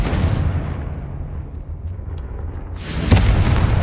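Confringo fire spell blasting in Hogwarts Legacy combat: a rumbling low explosion that swells and holds, then a second sharper, louder burst near the end.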